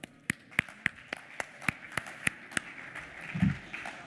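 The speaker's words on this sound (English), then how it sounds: "Give a warm applause for Sebastian Hasenack." Sparse, evenly spaced claps, about three per second, sound across a quiet hall at a finance-tech pitch event as the managing director and co-founder of investify is welcomed on stage. A brief low thump comes near the end.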